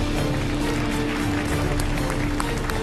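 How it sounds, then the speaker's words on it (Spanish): Studio audience applause on an election-night television panel show: thick, steady clapping spreads across the set, with a faint constant hum running beneath it. "Un aplauso."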